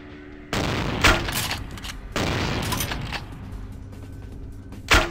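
Gunfire in the video game Vampire The Masquerade: Bloodlines: two long, loud bursts of rapid shots, each lasting over a second, with sharp single reports in between and a final loud bang near the end.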